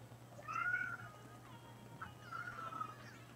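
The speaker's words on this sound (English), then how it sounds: "Oh, my cats are whining now." Cats meow and whine indoors, two drawn-out plaintive cries a couple of seconds apart, fairly faint over a low steady hum.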